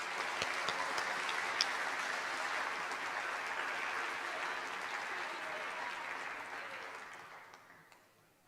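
Audience applause at a school awards convocation, a steady wash of many hands clapping that holds for several seconds, then thins out and fades toward the end.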